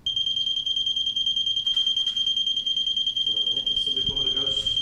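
A firefighter health-monitoring device sounds its main alarm, a continuous piercing high-pitched tone that runs loud and unbroken while people talk in the background.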